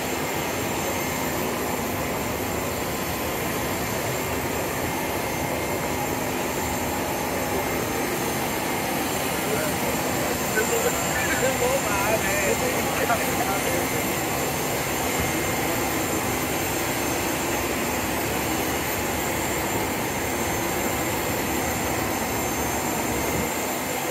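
Airplane taxiing at Kumasi airport just after landing, a steady loud jet engine roar with constant whine that holds unchanging throughout, with faint voices in the background.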